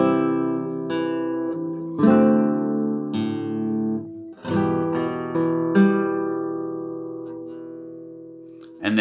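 Solo guitar picks three measures of a song, ringing plucked notes and chords arriving every second or so and sustaining loudly, with no voice.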